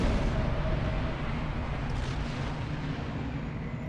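Ship weapons fire in the video game Star Trek Online, a continuous loud low roar of blasts and rumbling explosions that holds steady without pause and has no talking over it.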